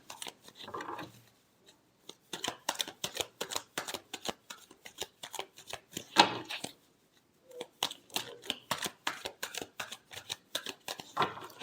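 Tarot cards riffle and snap in rapid bursts of crisp shuffling, stopping briefly and starting again over about twelve seconds, close and fairly loud with no talk.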